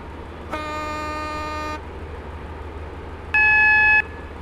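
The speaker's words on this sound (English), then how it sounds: "Train now approaching. Platform 1 does not stop here." A train horn sounds at a station in the Roblox railway game Stepford County Railway: a steady harmonic blast lasting about a second, then after a pause a shorter, louder, higher blast, both over a quiet background.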